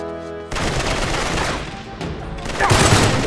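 Weapon fire in Uncharted 3: Drake's Deception, a dense, loud stretch of gunfire and combat noise that swells toward the end, with no talking.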